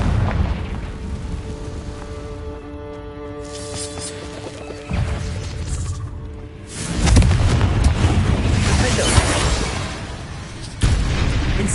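Confringo fire spell blasts in Hogwarts Legacy burst as loud booming explosions, a few separate heavy impacts with crackling rumble between stretches of humming ambience.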